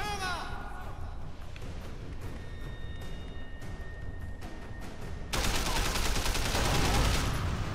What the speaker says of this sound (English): How are they shooting me?